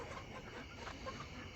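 Chickens in a backyard flock cluck softly inside a pen, faint scattered calls over a low steady background hum.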